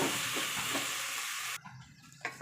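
Steady loud sizzling and hissing from a hot pan as rice is stirred into the tempering, then the frying quiets to a softer crackle.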